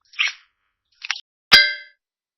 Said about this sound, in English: Then the fox teacher's bell rang again,